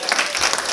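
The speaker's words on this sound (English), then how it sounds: "Get out a round of applause." A short burst of audience clapping at a business opportunity meeting, a thick, reverberant wash of applause lasting under a second.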